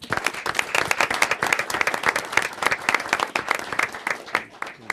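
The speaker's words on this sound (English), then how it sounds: "Round of applause." A crowd at a Pitt County Board of Commissioners meeting gives a lively round of applause, with dense, close clapping lasting several seconds before thinning out at the end.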